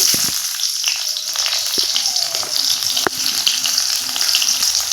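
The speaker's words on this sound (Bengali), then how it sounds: "তেলে দিয়ে দেবো শুকনো লঙ্কা গোটা গরম মশলা গোটা জিরে তেজপাতা একসাথে দিয়ে দিলাম দিয়ে দেবো পেঁয়াজ কুচি" Dried red chillies, whole garam masala, cumin, bay leaves and chopped onion frying in hot oil, a steady loud sizzle with scattered crackles and occasional clinks of a spatula stirring the pan.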